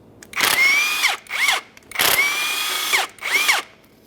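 A power tool whirs in four short bursts, each spinning up and winding down, while removing 13mm engine mount bolts on a 2007-2017 Jeep Patriot with a 2.4L four-cylinder; loud and close, with brief pauses between bursts.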